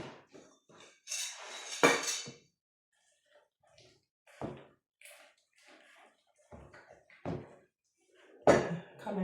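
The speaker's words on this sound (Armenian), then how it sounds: "Լավ խառնում ենք։" Wooden spoon or ladle knocking and scraping through a thick sausage cutlet mixture in a pot, in a few short, irregular bursts separated by quiet gaps.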